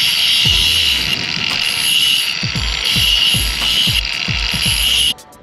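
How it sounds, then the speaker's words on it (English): A power grinder working on crappie fishing tackle after trimming: a steady high-pitched whine runs throughout, broken by a series of short low thumps as the piece is pressed against the wheel, ending abruptly when the tool stops. "So after you trim that up, then hit it with the grinder."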